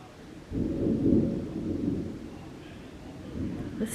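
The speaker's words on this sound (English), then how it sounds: "The rain just lightened up." Tropical storm rain with a rumble of thunder swelling in about half a second in, rolling on for a couple of seconds and then easing into steady rain.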